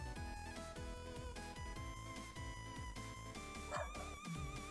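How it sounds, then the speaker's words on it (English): A small ten-pound dog barks indoors while someone is at the door, with quick sharp yips recurring under a loud, busy musical background. "The dog is barking"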